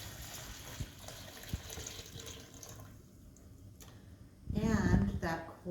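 Apple juice poured from a gallon into a pot of mulled Christmas punch with a clove-studded orange pomander: a steady liquid splash for several seconds, then a voice speaks near the end.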